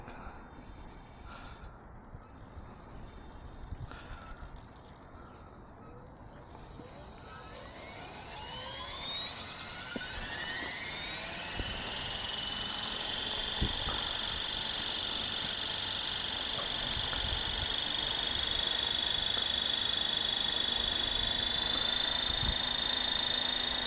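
A Blade Fusion 360 3S RC helicopter spools up from quiet, its rotor and motor whine rising steadily in pitch over several seconds, then holds a loud, even high-pitched drone close by.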